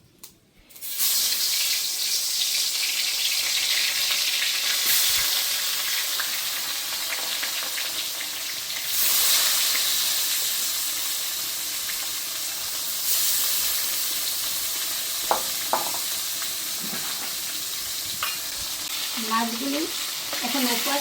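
Tapsi river fish coated in mustard paste frying in hot oil in a wok, a steady loud sizzle from start to finish with brief clinks and stirring noises, and no one talking.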